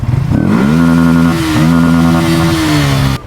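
A motorcycle engine with a high-power ECU revs hard outside a motorcycle garage and holds a loud, steady roar up close, dipping briefly in the middle before cutting off abruptly at the end.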